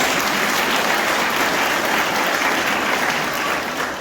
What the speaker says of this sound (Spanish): Una ofrenda de palmas también a ellos